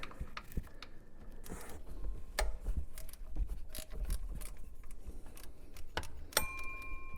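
Ratchet clicking in short, irregular bursts while loosening tensioner bolts on a Ford 5.4 3V engine, mixed with faint metallic clinks. Close and quiet, with no talking.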